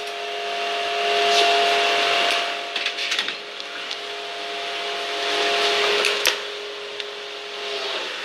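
An air conditioner runs noisily indoors, giving a steady droning hum with faint tonal whine and a few small knocks and rubs over about eight seconds, with no one speaking.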